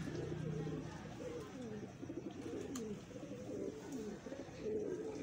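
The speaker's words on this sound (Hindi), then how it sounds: "फिरोजपुरी, प्योर फिरोजपुरी कबूतर है।" A pure Ferozpuri pigeon coos softly in low, rolling phrases, repeated steadily while someone talks over it nearby.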